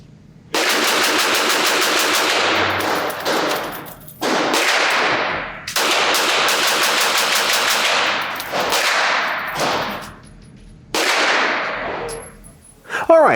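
A Walther WMP .22 Magnum pistol fires in several fast strings of rapid shots, loud and close, with short pauses between bursts and a final sharp report at the end.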